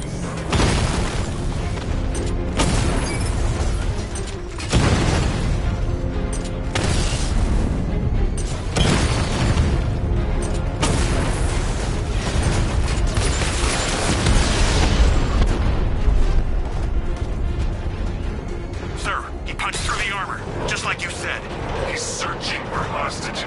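Repeated heavy booms from the Batmobile's 60mm tank cannon blasting armored enemy units in the game Batman: Arkham Knight, loud bursts every few seconds amid dense battle noise and rumbling, with a voice talking over them.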